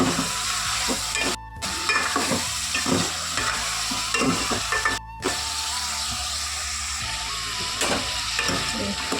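Ginger garlic paste frying with salt and turmeric in a pan, a continuous sizzle broken by repeated rhythmic spatula scrapes and two brief dropouts.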